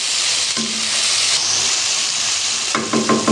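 Chicken macaroni fries in a pan with soy sauce and vinegar, giving a steady loud sizzle with stirring scrapes and a burst of clatter near the end.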